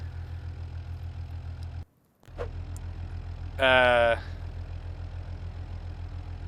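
A video game single-turbo 2.8 liter inline-six engine idles with a steady, low pulsing rumble, briefly cutting out, then a short burst of buzzy higher-pitched revving.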